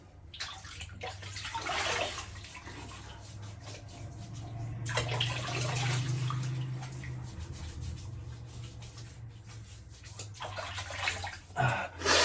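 Running water splashing into a sink while wetting a beard for a shave, with swelling bursts of splashing over a steady low hum, close and moderately loud.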